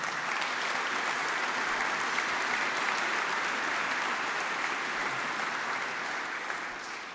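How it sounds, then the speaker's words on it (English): A conference audience at a transport keynote session applauds in a long, even wash of clapping that holds steady for several seconds and then fades slightly at the end. "So let's show our appreciation together and applaud everyone who has got us this far."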